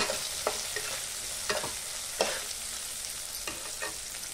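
Onion being stirred and fried in a pan while making chili paneer, with a steady sizzle broken by repeated scraping strokes of a spatula, close up and with no voices.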